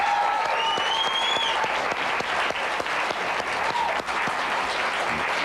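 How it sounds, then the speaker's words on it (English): Studio audience applause on a 1993 television game show, praising Halloween decorations: loud, dense, continuous clapping from a crowd, with faint whistles and tones drifting through it. "Audience, I think we should give a round of applause for these fabulous decorations"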